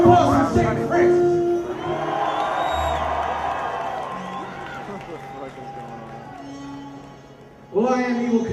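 A festival crowd cheers and whoops with scattered clapping at an outdoor music stage, loud at first, easing into a broad roar, then swelling again near the end, with a voice shouting over it.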